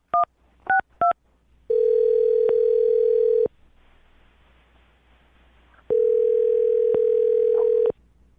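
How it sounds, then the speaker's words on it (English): Three quick telephone keypad tones, then a long ringing tone, a pause, and a second long ring, all loud and close. "I'm going to dial her phone number right now"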